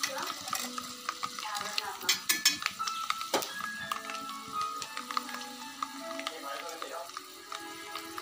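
Garlic and curry leaves sauté in a pan for mango rice, with a soft sizzle under repeated close clinks and scrapes of a spoon stirring against the metal.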